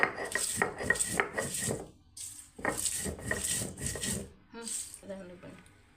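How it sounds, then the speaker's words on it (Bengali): Chillies are ground on a flat stone slab with a grinding stone, giving rhythmic rough rubbing strokes in two bursts separated by brief pauses, close up, with a short softer scrape at the end. "এখন আমি পাটায় বেটে নেব"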